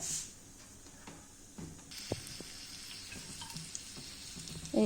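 Crushed ginger and garlic hit hot oil in a wok, starting a soft sizzle that grows louder and steadier after a couple of seconds, with a few clanks of the utensil.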